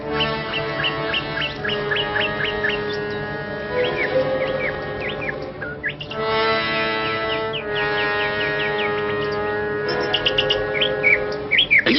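A cartoon bird chirps persistently over a steady musical background, rapid high tweets and trills coming in clusters throughout, loud and near in an animated Tom Sawyer adventure.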